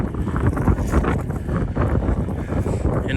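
A severe windstorm in Michigan roars and buffets the microphone outdoors near a blown-down tree, a loud continuous rumbling gust with no talking.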